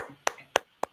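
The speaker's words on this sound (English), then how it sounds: "Clap it up, BSJ" Three sharp handclaps spaced evenly about a quarter second apart, fairly close and crisp, with quiet background between them.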